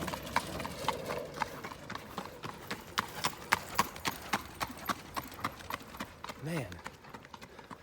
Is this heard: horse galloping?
yes